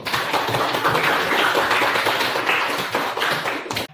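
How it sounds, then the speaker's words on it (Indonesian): A school class of ninth-grade students claps together in a dense, steady burst of applause lasting several seconds, close and fairly loud, fading at the end. "kita tepuk tangan dulu"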